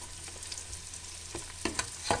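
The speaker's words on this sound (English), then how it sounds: "So guys, I've finished frying the meat." Goat meat frying in oil in a pan gives a steady, close sizzle and crackle, broken by a few louder stirring scrapes and clinks near the end, with no talking.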